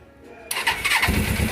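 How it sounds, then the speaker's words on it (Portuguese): A Suzuki GS 500 motorcycle engine running without oil fires up abruptly after a brief quiet moment, then settles into a loud, close, rough idle. "Olha o barulho do motor, cara. A moto tá sem óleo, mano."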